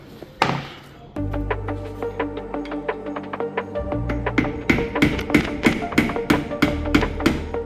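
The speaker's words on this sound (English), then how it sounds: "we can tap this new seal in with a nylon hammer" A nylon hammer taps a new oil seal into place on an Opel Manta i200 under restoration, with a long run of close, sharp, evenly paced taps after a single heavier knock.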